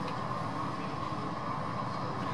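Light rail train in an Alstom Citadis Spirit simulator for O-Train Line 1 departing a station, a steady even rumble and hum of the running car throughout.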